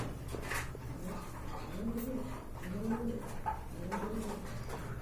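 Pigeons give soft, repeated throaty coos at a steady rhythm, close by, over a low constant background hum.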